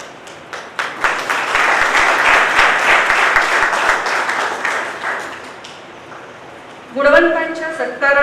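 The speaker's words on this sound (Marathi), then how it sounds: "जरा जोरात होऊ द्या टाळ्यांचा आवाज" Audience applause at a college foundation day felicitation ceremony honouring top-ranking students, a dense round of many hands clapping for about six seconds before fading, then a voice speaking over a microphone.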